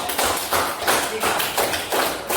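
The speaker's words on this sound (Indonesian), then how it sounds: "Beri aplaus untuk kelompok 3." A school classroom of eighth-grade maths students applauds a student group, a steady patter of many hands clapping at close range for a couple of seconds without a break.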